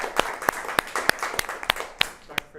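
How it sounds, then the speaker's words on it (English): A few audience members at a space-industry talk clap sharply for the organisers, giving about ten distinct, widely spaced claps that ring out close and crisp over a quiet room. "And a quick round of applause for the wonderful folks with nonfiction."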